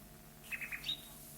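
A nightingale sings in a narrated fairy tale, giving three quick high chirps and a thin rising whistle, soft and brief against a quiet background.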